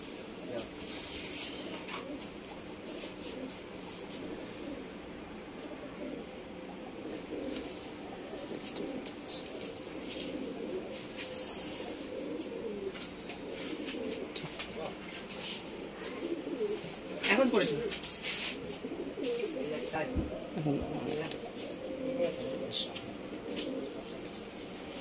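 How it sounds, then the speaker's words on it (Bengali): Kashmiri pigeons coo softly and steadily through a dovecote scene, with a person talking now and then over the birds. "আরেকটি পায়রা কাশ্মীর"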